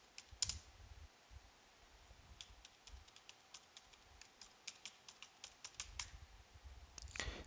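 Keys on a computer keyboard clack in a quick, uneven run while an SQL select query is typed, close and fairly quiet against a faint hiss, with no talking.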